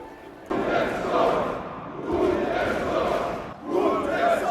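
A gladiatorial arena crowd in an ancient Roman epic film roars and cheers in loud sustained surges, breaking off briefly and swelling again.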